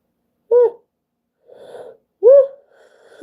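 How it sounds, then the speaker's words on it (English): Two yawns from a person on a livestream, each a quick voiced rising onset that trails into breathy exhalation, separated by a soft airy breath, close and fairly loud with no speech. "I never stop yawning."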